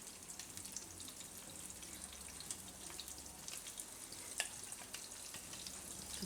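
Onion gravy cooks in hot oil in a pan, giving a faint, steady sizzle and crackle with a few small pops, and no one speaks.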